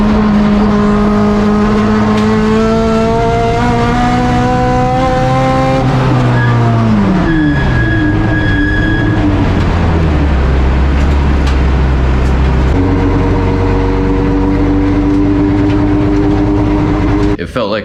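A loud race car engine drones and then stumbles, its pitch sagging and sputtering unevenly as it breaks up like a dead cylinder and idles roughly.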